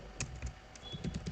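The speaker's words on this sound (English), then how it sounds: "So I'm just typing a sentence like in this way" Quick bursts of keystrokes on a computer keyboard while a sentence is entered, with irregular clicky taps close by and fairly quiet, with no talking.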